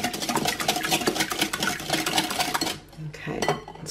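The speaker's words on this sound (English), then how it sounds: "I've got 4 eggs in a bowl, which I'm just going to whisk until nice and smooth." Four eggs are beaten in a bowl with fast, rhythmic clicking of a whisk against the sides, close and fairly loud, pausing briefly near the end before a few more strokes.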